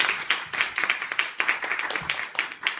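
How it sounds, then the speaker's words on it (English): An audience claps at a talk, giving a dense, steady patter of many hands across the whole stretch, moderately loud and close, with no voices over it. "So let's give a round of applause."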